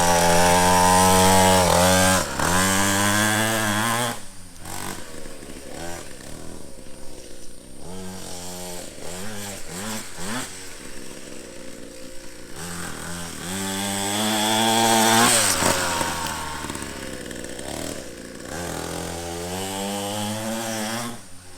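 An SYX Moto Holeshot 50cc dirt bike engine runs steadily and loudly for about twenty seconds, its buzzy two-stroke note rising and falling as the throttle is opened and eased off, close by.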